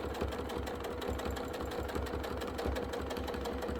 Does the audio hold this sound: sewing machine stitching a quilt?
yes